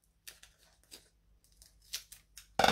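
Scissors cut through card paper in a run of soft, close snips, each a short crisp burst, then one louder rough cutting sound at the end with no voices.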